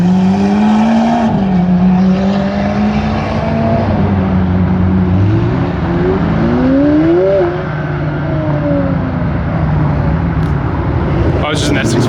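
Modified Ford Mustang S650 pulling away at a car meet, its engine note rising through a couple of gear changes and fading slightly as it leaves, with crowd voices over a steady background rumble.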